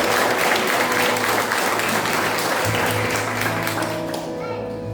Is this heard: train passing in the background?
no